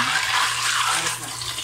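Water being thrown out while cleaning house, a continuous loud rushing splash that pours steadily throughout and eases slightly near the end.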